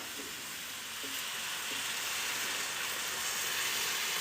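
Hot water from a kettle poured into a pan of frying potatoes with flour, giving a steady, loud sizzle and hiss that holds throughout without any talk.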